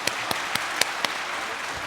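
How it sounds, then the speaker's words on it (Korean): A few distinct sharp claps ring out one after another in a church congregation during a Yeouido Full Gospel church independence thanksgiving service, five spaced hand claps over a soft crowd wash before it trails off. "뜨거운 박수로 맞아주시기 바랍니다."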